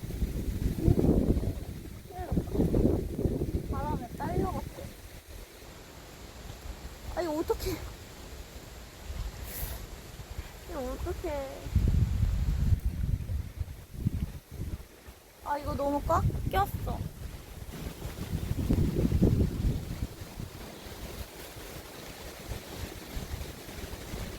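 Strong gusty wind blows while bass fishing outdoors in the countryside, striking the microphone in repeated low rumbling bursts that rise and fade, with people talking in between.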